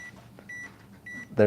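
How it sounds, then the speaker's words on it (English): A heat press's electronic timer beeps three times at an even pace, each a short high tone, before a louder thump at the end. "our beeping sound that says it is time"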